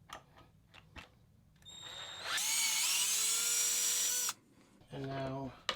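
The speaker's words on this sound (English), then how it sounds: "we're going to go ahead and use the drill on that" A power drill whines while removing nuts on a Losi MTXL RC truck, short bursts rising to a loud sustained high-pitched spin, then a brief lower burst, with quiet gaps between.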